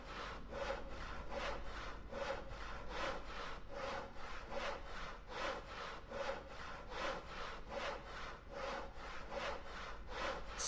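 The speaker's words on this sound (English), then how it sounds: "We're just using the hacksaw." Hacksaw cutting through boxes in the video game Voices of the Void, a steady back-and-forth rasping stroke repeating about twice per second, loud and close, running continuously over a faint constant hum.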